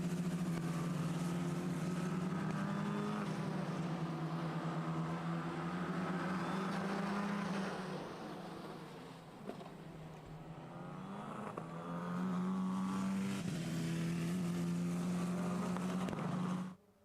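F4 single-seater race cars on the Most circuit pass through a chicane in a CEZ race, with engines droning steadily, easing off in the middle and revving back up before fading at the end.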